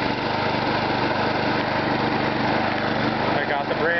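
A Briggs & Stratton small engine fitted with a new muffler runs steadily at high speed, a constant close buzzing drone with no break, and a faint voice underneath near the end.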